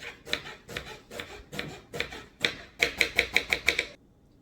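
An onion is chopped with a knife on a board, a run of close, crisp rhythmic cuts that starts uneven and quickens into a fast regular burst before stopping.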